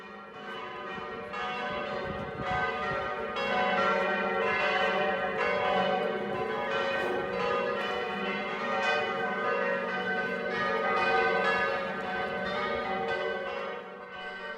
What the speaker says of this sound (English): The bells are ringing to begin the international mass in the evening of a new day.